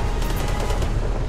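Rapid, dense bursts of gunfire from a grenade launcher weapon in the video game Angels Fall First, a loud continuous barrage of overlapping shots lasting about a second.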